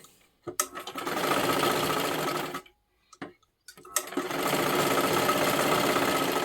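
A sewing machine stitches silky fabric with a lining, running in two steady bursts separated by a short pause with a few light clicks, close and loud with no talking.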